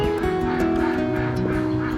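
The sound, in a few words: many ducks quacking and honking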